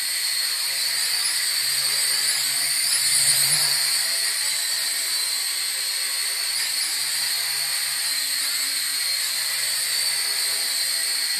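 The JJRC H50 quadcopter drone hovers indoors in a confined space with a steady high-pitched propeller whine and buzz, nearby and constant, swelling slightly for a moment before settling back.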